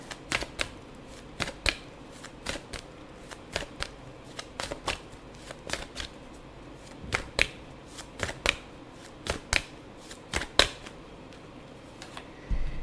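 Tarot cards are shuffled and flicked in scattered sharp riffles and snaps, sometimes in quick pairs, fairly faint and close against a quiet room.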